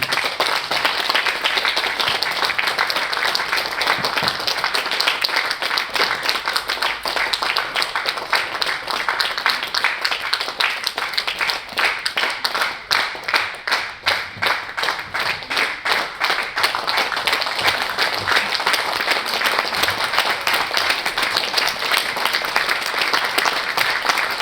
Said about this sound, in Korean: 기수단 퇴장할 때 박수로 또 보내서